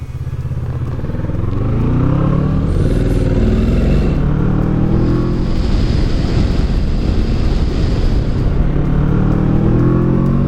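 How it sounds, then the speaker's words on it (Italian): A Kawasaki Versys 650 crossover motorcycle rides onboard at speed, its engine droning steadily under heavy, continuous wind roar, loud and close throughout, with no talking. "così sentite il rumore del motore della Kawasaki e della Honda"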